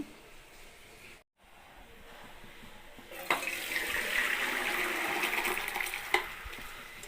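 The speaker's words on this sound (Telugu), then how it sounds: "ఇప్పుడు ఈ నీళ్ళు వాడ్చుకుందాం" Hot water pours from a pot of boiled vermicelli through a strainer, a steady close rushing splash that swells after a few seconds and continues to the end.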